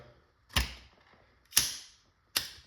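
A lubed bolt is seated into an LL4D MCS 468 airsoft rifle and pulled down, giving three sharp, separate mechanical clicks about a second apart, close and fairly quiet, with near silence between them and no voices.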